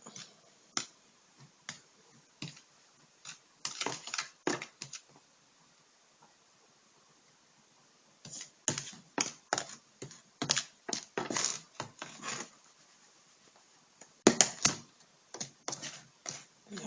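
Seasoning ingredients being stirred into flour to make a breading for homemade KFC-style chicken, heard as close, irregular scratchy clicks and taps in bursts with a quiet pause midway.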